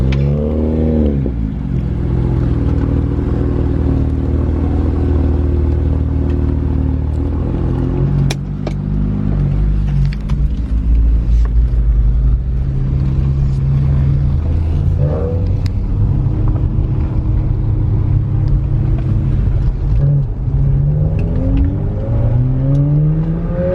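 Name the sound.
BMW 1M engine revving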